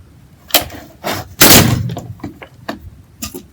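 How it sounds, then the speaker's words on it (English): The plastic back panel of a LeapFrog toy is pried open: a series of close clicks, snaps and cracking pops, with one louder, longer crack near the middle followed by smaller ticks. "I think we're going to be able to pop it open now."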